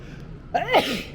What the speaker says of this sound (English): I just sneezed